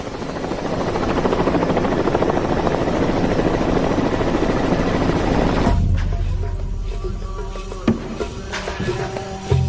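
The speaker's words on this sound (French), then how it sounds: "quand on a demandé un hélicoptère à Chadri, qu'est-ce qu'il a fait? Il nous arrive" A helicopter's loud rotor thudding and engine roar fill the air close by, then drop off sharply, leaving quieter rumble and scattered knocks.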